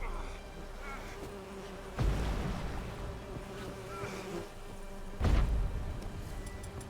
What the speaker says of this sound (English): Another freaking beehive. Bees.